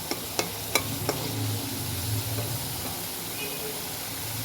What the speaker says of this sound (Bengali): এখন আমি রান্না করতেছি মাছ ভুনা, রুই মাছ ভুনা।